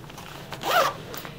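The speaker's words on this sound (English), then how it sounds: "So you zip it up and zip up the second one." A single quick zip closes a film changing bag, a close rasping sweep lasting under half a second in otherwise quiet surroundings.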